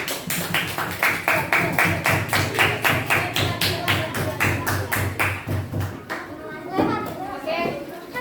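A classroom group clapping together in a steady rhythmic beat of roughly twenty claps, fairly close and loud, fading into scattered claps and children's voices at the end.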